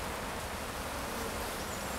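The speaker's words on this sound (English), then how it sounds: "There's bees spilling out at the sides here." A dense, continuous drone of many honeybees buzzing close by at an open top bar nucleus hive, steady and unbroken with no voices.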